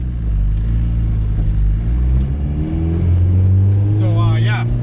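A red Honda Civic's engine revs steadily while driving, a loud continuous low drone with rising and falling harmonics, and a voice speaks over it near the end.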